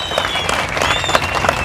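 Loud applause from a crowd, a dense continuous clatter of clapping hands filling the room, with faint cheering mixed in.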